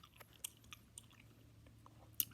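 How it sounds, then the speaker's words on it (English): Grape Big League Chew bubble gum chewed close to the microphone in a quiet whispered setting: soft, irregular wet chewing and smacking clicks, faint and intimate, with no talking. "I'm chewing tonight, by the way."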